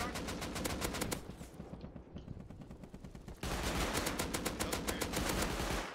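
Video game gunfire rattles out in rapid, sustained automatic bursts, loud and close, with a brief dip before another dense volley.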